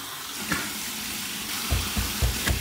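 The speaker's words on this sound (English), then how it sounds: "so here's my warm water rinse." Warm water running from a sink tap during a shave rinse, a steady hiss of flowing water with splashes and soft thumps near the end, close by with no talking.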